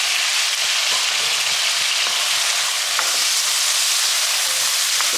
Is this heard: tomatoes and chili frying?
yes